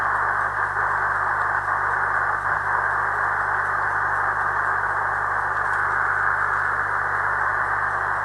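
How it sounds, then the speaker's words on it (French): Faint Morse code keying on a shortwave radio receiver tuned in sideband mode near 13 MHz with a poor antenna, buried in steady loud static hiss and hum throughout, with no voices. "On entend un petit peu de morse."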